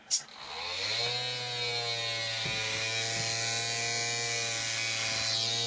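A three-tower coil transmission setup driving small motors and an incandescent bulb at 18.5 volts gives a steady, buzzing, harmonic-rich motor whine that starts after a brief click and holds level throughout.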